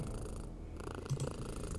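A black cat purrs in the video game Kathy Rain 2, a soft continuous low rumble held steadily for a couple of seconds with no talking over it.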